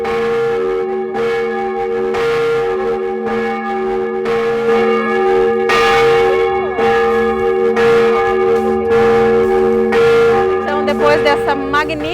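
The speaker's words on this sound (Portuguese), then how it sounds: "Dessa magnífica apresentação do sino Cristo Salvador" The Cristo Salvador church bell rings out in a historic town centre in Lages, with repeated strong strokes about every two seconds and long humming overtones that overlap and sustain throughout.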